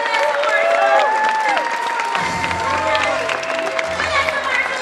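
Audience applause and cheering from a crowd at Star Wars Weekends 2014 for Vanessa Marshall, a steady wash of clapping heard beneath an announcer's voice, with a low rumble of crowd noise joining partway through.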